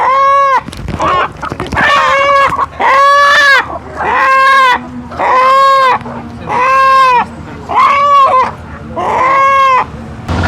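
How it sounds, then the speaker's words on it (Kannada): Native country chickens confined in a box let out a series of about seven loud, drawn-out squawks in a steady rhythm, close by, with no talking. "ಕೂಗಾಟ ಕಿರ್ಚಾಟ ಸಹಜ. ಅದೇ ನಾಟಿ ಕೋಳಿ, ಒರಿಜಿನಲ್ ನಾಟಿ ಕೋಳಿ."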